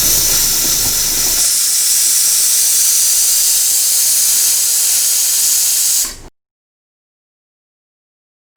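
A kitchen pressure cooker, used to boil cabbage, releases steam through its whistle in a loud, sustained hiss that eases slightly partway through and then cuts off abruptly, leaving silence.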